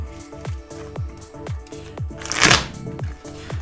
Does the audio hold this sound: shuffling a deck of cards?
yes